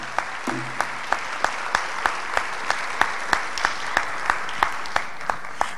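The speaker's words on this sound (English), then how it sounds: "Give her a round of applause." An audience applauds to welcome a speaker at the FOSSASIA Summit 2017 tech conference, a steady wash of clapping with sharp, evenly spaced claps standing out above it.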